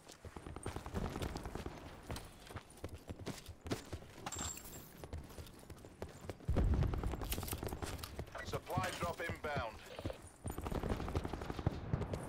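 Gunfire in a Call of Duty match sounds as scattered sharp bursts and single shots among other game noise, under frequent talk from a player.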